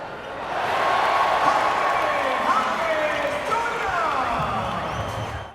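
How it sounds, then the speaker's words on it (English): A basketball arena crowd in Mexico City swells into a sustained roar of cheering that holds loud for several seconds before easing off, with squeaks and bounces from the court mixed in. "Every time he touches the ball, you can hear the crowd noise go up."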